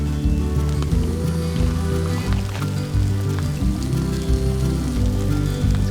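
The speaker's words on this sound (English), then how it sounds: "That's hail." Hail pelting down during a storm in Bryce Canyon National Park, a dense, continuous patter of hard pellets striking the ground and surroundings at steady loudness, with no talk.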